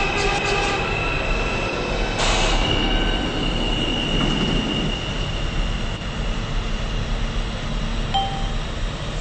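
A runaway subway train in a Roblox game rumbles steadily along the rails with high metallic wheel squeal and a faint ding, loud and continuous with no speech.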